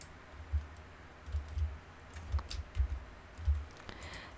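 Computer keyboard keys pressed during an Illustrator clipping-mask shortcut, a series of soft, quiet clicks in irregular small clusters over a faint background hiss.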